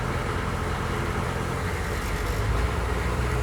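A 1987 AM General M998 HMMWV Humvee, custom-built, pulls away with a steady low diesel engine rumble and drivetrain drone, heard close from inside the vehicle, continuous and loud with no talk.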